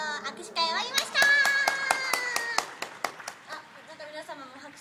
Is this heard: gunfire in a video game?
no